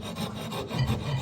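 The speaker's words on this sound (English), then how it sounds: "something that is crucial when working with a rough file is that I'm filing at a slight angle upward" Rough file rasping across wood, held at a slight upward angle, giving a continuous close, gritty scraping texture with no pauses and no talk.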